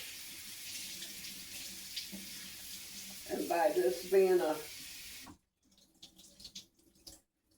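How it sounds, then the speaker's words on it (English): Water runs steadily from a tap for several seconds while rinsing a synthetic wig, a person speaks briefly over it, then the flow cuts off abruptly, leaving quiet. "And I'm rinsing it with some clear water."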